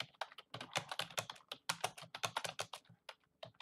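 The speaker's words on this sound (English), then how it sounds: "So I'm going to type in" Quick, irregular clatter of keys on a computer keyboard, close and clear, as a song title is typed in with brief pauses between bursts of keystrokes.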